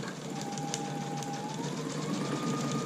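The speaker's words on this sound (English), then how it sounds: "Give it a little locking stitch here at the start." A sewing machine runs a short locking stitch at the start of a seam on a zipper bag, giving a steady close-up whir with a faint pitched motor tone and no talking.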